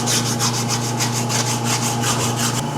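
A small bevel is being filed onto the edge of a handmade aluminum body panel for a sand car, a loud, close, continuous rasping with fast, even back-and-forth strokes and no talking.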